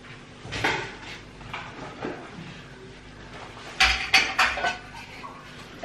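Dishes and pots washed by hand, irregular clinks and clatters of metal and crockery, some knocks close by, growing busier toward the end.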